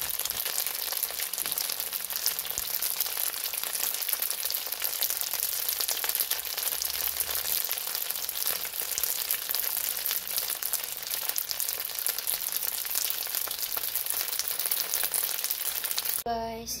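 Lechon pork belly frying in hot oil gives a steady, close, crackling sizzle that runs without a break from start to finish.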